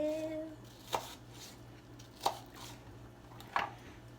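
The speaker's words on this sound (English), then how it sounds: "slicing up, slicing up, slicing up, onion" A knife slices through an onion on a cutting board in three crisp, separate cuts spaced about a second apart, close and clear against a low steady hum.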